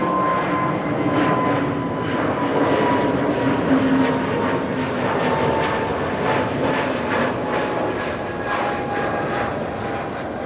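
A fixed-wing aircraft at Amsterdam Schiphol Airport, its engines giving a steady, loud droning roar with a faint high whine, continuous and unbroken from start to finish, with no voices.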